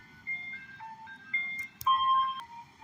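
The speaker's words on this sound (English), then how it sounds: "ice cream truck? That's a loud one." A loud ice cream truck passing on a street, its electronic chime melody playing in bright, wavering tones over a low rumble of traffic, swelling louder in bursts.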